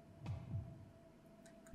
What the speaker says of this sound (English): Can hear her heart beating.